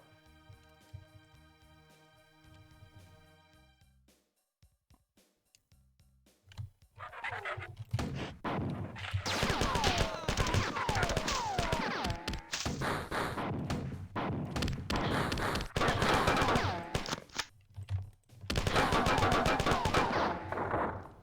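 Rapid bursts of gunfire from a weapon in the video game Marathon, loud and close, firing in dense repeated volleys with short pauses after a quiet opening.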